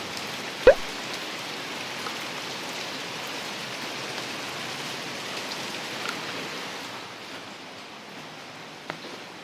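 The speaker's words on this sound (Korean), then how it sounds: "비가 약한 다섯 배더 많이 내리고 있습니다" Heavy rain pours down steadily as a dense, even hiss outside at night near an apartment complex. There is one sharp knock early on, and a faint tap comes near the end.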